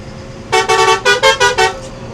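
A tour bus horn honks in a quick rhythmic series of about six loud, close toots, a melodic multi-tone pattern, with nothing else notable beneath.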